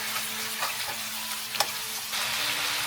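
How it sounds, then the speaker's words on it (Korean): Shrimp stir-fry in hot oil in a pan, giving a steady close sizzle with a faint hum and a few light clicks of a utensil, growing slightly louder near the end, no voices. "새우부터 볶아줄게요"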